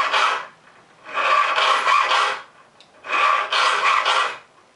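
Hand file rasping across the teeth of a cheap tenon saw, in three long strokes separated by brief pauses, each a steady bright metallic scrape, close and fairly loud with no talk.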